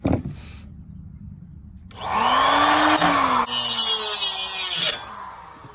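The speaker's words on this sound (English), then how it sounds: "We are almost through the bolt. Every blade that we keep throwing at it keeps breaking." Power saw blade grinding through a stubborn bolt during a header install on an FRS in a garage at night, a loud sustained whining cut for about three seconds after a quieter start, close and alone.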